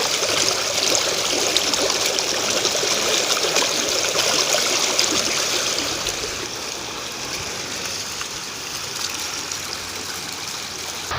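River water in Ziro rushing and gurgling over stones, a continuous bright hiss close by that eases slightly in level partway through, with no talking.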